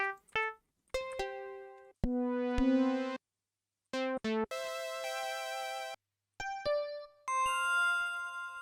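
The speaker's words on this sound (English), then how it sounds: "I think these bells sounds very dope." Bright synthesized bell tones from FL Studio ring out in short separate notes and chords, with clean pauses of silence between phrases.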